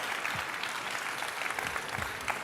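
Conference audience applauding, a dense, steady burst of many hands clapping that fills the whole stretch at moderate volume, with faint voices underneath.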